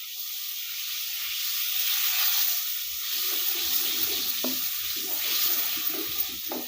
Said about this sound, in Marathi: तर हे बटर म्हणजे तापतं आहे,